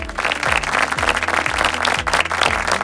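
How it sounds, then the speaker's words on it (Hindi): A studio audience applauds to welcome a contestant on a national family Bible quiz show. The clapping is loud and steady for about three seconds, with a rhythmic musical beat running underneath. "तो जोरदार तालियों से मैम का स्वागत कीजिए।"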